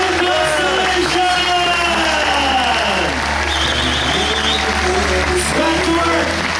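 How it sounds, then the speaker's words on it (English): An audience cheering and clapping for the crew of the Constellation ship, continuous applause with whoops and yells from the crowd, loud and close, while a voice booms over it. "don't stop cheering, don't stop clapping, don't stop, let me hear you"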